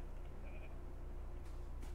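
Goats bleating in the survival video game TUG, a few faint, short calls over a low, steady ambient hum, with no talking.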